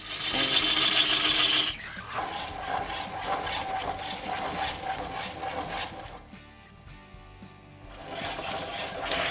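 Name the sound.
gouge roughing out a green wood bowl blank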